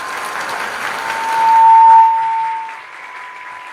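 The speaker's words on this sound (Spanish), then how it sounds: "yo quisiera que recibiéramos a nuestros invitados con un aplauso dominicano muy" Warm applause from a Dominican audience welcoming guests at a literary panel event, a steady wash of clapping with a sustained electronic tone rising briefly in the middle.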